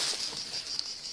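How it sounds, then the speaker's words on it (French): Cicadas sing in a steady high-pitched buzzing that drones continuously in the background, a shrill, even chorus with no voices. "il y a les cigales qui chantent."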